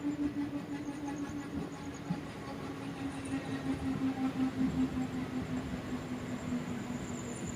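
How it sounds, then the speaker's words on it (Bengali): The 03466 Digha–Malda Town special express rolls into platform 4 at Mecheda station, a continuous low rumble and steady mechanical drone with faint wheel clatter and hiss, heard from on board. "আমাদের ট্রেন মেচেদা স্টেশন 4 নম্বর প্ল্যাটফর্মে প্রবেশ করছে।"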